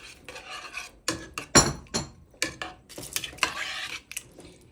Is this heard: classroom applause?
no